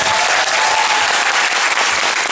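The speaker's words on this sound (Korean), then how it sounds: "큰 박수 한번 부탁드립니다." Audience applause at a special curtain call after a stage performance, a dense steady clapping that fills the whole stretch at loud, even volume with no voices over it.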